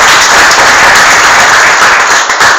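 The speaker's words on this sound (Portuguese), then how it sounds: "dê um aplauso ao Senhor bem forte." A church congregation claps loudly and steadily, a close, dense wash of applause with no pauses throughout.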